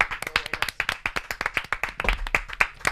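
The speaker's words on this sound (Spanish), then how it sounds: "así que pido un aplauso para Enar Álvarez." Audience applause for a comedian being introduced on a Spanish comedy talk show, a steady run of sharp, close hand claps lasting throughout without speech.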